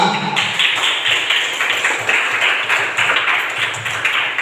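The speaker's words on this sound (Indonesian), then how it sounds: "Tepuk tangan untuk kelompok 3." Students in a classroom applaud a presenting group: steady, dense hand claps with crisp, rapid, fairly even slaps throughout, moderately close and loud, with no speech over them.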